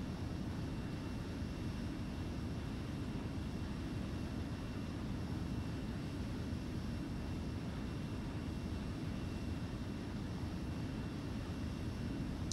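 Steady low roar of an F-4B jet in flight in the game ArmA 3, a continuous broadband engine rumble that holds level and unbroken throughout, with no voices.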